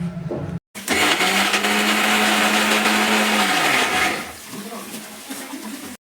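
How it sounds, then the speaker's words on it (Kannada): A mixer grinder whirs loudly, blending soaked ingredients into a smooth paste for a hair mask, a steady motor drone after a short start, then winding down and fading. "ಈಗ ಇದನ್ನೆಲ್ಲ ಮಿಕ್ಸಿಗೆ ಹಾಕಿ ಫೈನಾಗಿ ಪೇಸ್ಟ್ ಮಾಡ್ಕೊಳ್ಳಿ."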